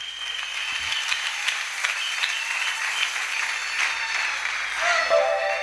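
Church congregation clapping steadily and cheering throughout a Sunday school performance, dense sustained applause with scattered voices and a brief rise near the end.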